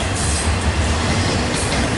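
A KCS-led freight train passing close by, producing a loud, continuous rumble of rolling wheels and rail noise with no voices.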